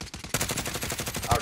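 Rapid automatic gunfire in Call of Duty Cold War Warzone, loud and close, bursts of shots rattling continuously with a heavier blast near the end.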